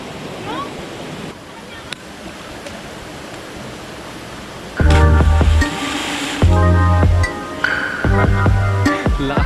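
Balon Falls in Subic, Zambales sends out a steady, broad rush of falling water, overlaid partway through by loud, choppy bursts of nearby voices and handling noise.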